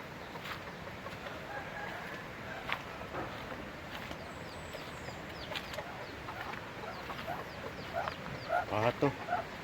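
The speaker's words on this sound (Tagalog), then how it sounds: "Marami siyang manok." Chickens cluck and call on and off in a farmyard in Tuba, Benguet, with a burst of louder clucking near the end over faint background noise.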